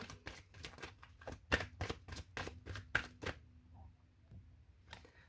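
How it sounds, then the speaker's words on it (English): Oracle cards from a Halloween-themed deck being shuffled by hand, a quick run of crisp riffling snaps and flutters close up, stopping partway through and leaving near-silence with one faint final flick. "I want to sit here and shuffle and see what I get."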